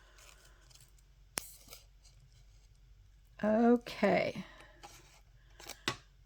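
Scissors trimming tissue paper in a few quick crisp snips and rustles, close by, with a person speaking briefly between cuts.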